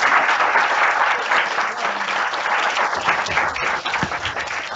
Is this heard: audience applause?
yes